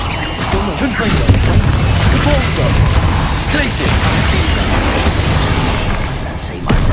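Confringo fire spell explosions in Hogwarts Legacy, a dense run of booms, thuds and crackling impacts during busy combat, loud and near, with a voice speaking at times.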